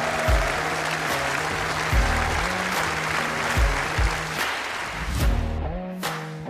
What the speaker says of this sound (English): Keep that applause going, ladies and gents, 3 times World Champion,